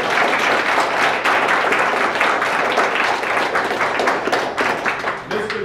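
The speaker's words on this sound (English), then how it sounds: "I want y'all to go ahead and give him a round of applause" An audience applauds at a male mentoring event in Chicago, with steady, dense clapping from a large crowd that holds at full strength across the whole stretch and eases only slightly at the end.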